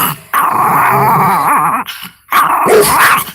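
A leashed dog passing close by gives a loud, wavering growl that rises and falls, breaks off briefly, then returns as a shorter snarl with a yip.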